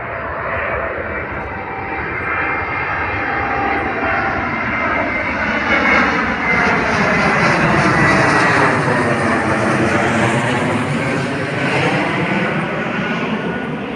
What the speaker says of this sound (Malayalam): ഫ്ലൈറ്റ്